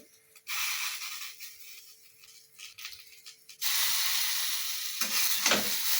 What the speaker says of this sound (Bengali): সয়া সস দিয়ে একটু নাড়বো ভালো করে।